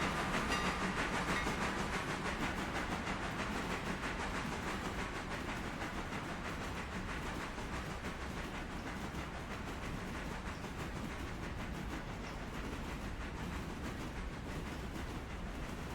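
A goods train running in the railway video game Railroader, a steady, faint rumble of rolling wagons with a continuous clatter and hiss and no pauses.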